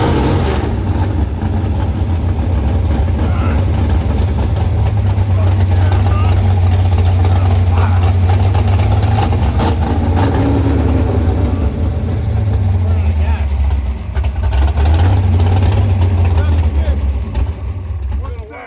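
A 468 big block Chevy engine in a Nova idling roughly, a loud low rumble that rises and dips unevenly, with people talking over it.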